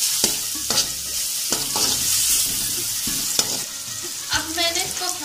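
Fish pieces for a karahi with green chillies sizzle steadily in hot oil, broad hiss punctuated by several louder stirring scrapes and clatters, close and fairly loud with no talking.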